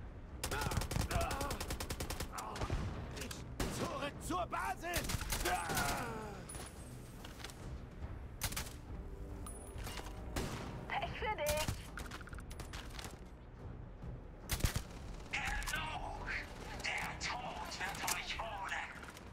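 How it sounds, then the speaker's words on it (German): Gunfire in the Starfield video game, with bursts of rapid automatic shots and single loud cracks at varying distances spread through the clip, mixed with impacts and game effects while someone talks over it. "Ich frag mich, von wo hier geschossen wird."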